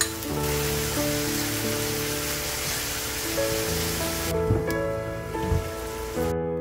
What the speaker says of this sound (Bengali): তো এই সবগুলো মিক্স করে এই ফ্রাইড ভেজিটেবলসগুলোর সাথে অ্যাড করে খুব ভালো করে নাড়াচাড়া করে নেব মিডিয়াম ফ্লেমে।